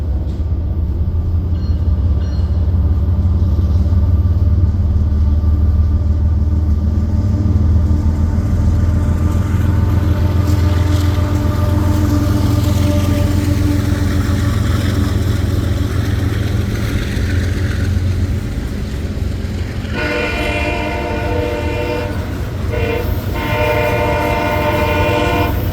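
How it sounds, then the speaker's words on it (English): CSX freight locomotives, led by Baltimore and Ohio heritage unit CSXT 1827, pull a northbound intermodal train over the foggy Tennessee River: a loud, continuous diesel rumble and rolling wheel noise, with a horn sounding near the end. "CSXT 1827, the Baltimore and Ohio Heritage Unit, leading the northbound intermodal train over a very foggy Tennessee River"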